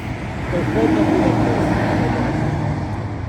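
Busy highway traffic between Odesa and Mykolaiv near Varvarivka, beside a truck salvage yard, makes a loud continuous low rumble with passing vehicles swelling and fading, and someone talks over it.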